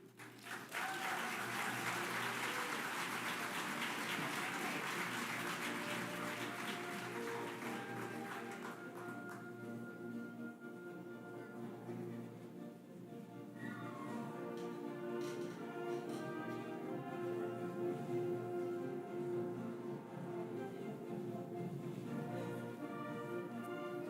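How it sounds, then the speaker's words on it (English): Audience applause following a presidential speech at an opening ceremony, loud and sustained for the full stretch, with music swelling underneath as the clapping carries on. "Can we please give another round of applause for the President of the United States?"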